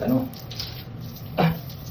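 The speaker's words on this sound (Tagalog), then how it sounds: "Meron kang hand shower." A hand shower in a renovated bathroom runs with a soft, steady hiss of water, while a person speaks over it and the flow briefly surges louder near the end.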